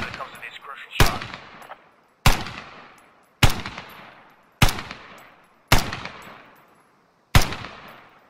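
Six loud, sharp shots from a designated marksman's high-caliber rifle in a video game, fired at a slow, even pace about a second apart, each crack trailing off in a long echoing decay.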